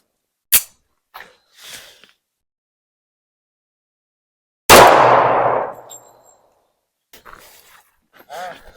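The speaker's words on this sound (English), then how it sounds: "Let's shoot the 45 now." A single loud .45 caliber gunshot rings out close by with a ringing decay, preceded by a sharp click and faint handling noises, with quiet voices afterward.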